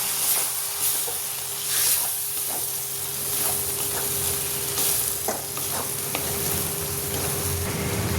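Spiced poppy-seed paste for a cauliflower and potato posto sizzles loudly in a pan after water is added, a steady broad hiss with occasional stirring scrapes throughout.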